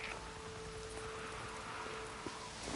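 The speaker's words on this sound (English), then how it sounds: "It's starting to rain." Steady light rain begins falling in the video game Days Gone, a soft continuous hiss of drops pattering on surfaces and foliage, faint and even throughout.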